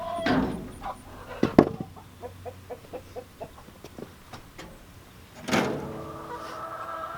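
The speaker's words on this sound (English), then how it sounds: "I will let the chickens out" Wooden clacks and a sliding door open a coop, followed by a run of soft rhythmic taps and a few scattered hen clucks nearby.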